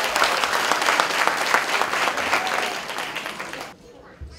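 An audience at a Diwali celebration applauds the chief guests with a dense, sustained roar of many hands clapping, loud and close, which then cuts off abruptly into near silence.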